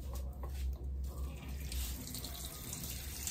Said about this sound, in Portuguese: Vou aqui molhar o cabelo pra gente poder aplicar o shampoo.